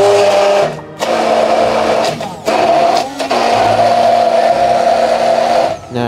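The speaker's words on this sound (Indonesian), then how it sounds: "Oke, blender sampai halus." A blender grinds rawon spices into a smooth paste, its motor running loud and steady at close range, briefly dipping as the load shifts, with no talking.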